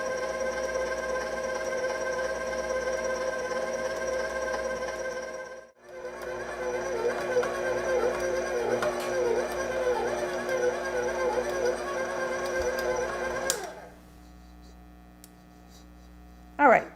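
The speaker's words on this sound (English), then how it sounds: "I'm just going to let it knead on here for about 4 or 5 minutes. Just let the machine do some of the work." A stand mixer kneads challah roll dough with a steady motor hum and a rhythmic churning, which stops briefly near the start and then runs on loud and close with no talk.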